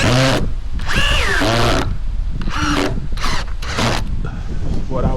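A power drill bores into old fence wood during a backyard privacy-wall build, its motor whining in several loud, close bursts that rise and fall in pitch, with a person talking in between.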